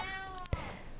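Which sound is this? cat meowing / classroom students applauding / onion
cat meowing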